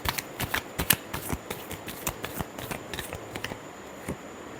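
Tarot cards shuffled by hand for a Virgo love reading, a quick run of crisp papery riffles and snaps at close range, steady and fairly soft with no voice.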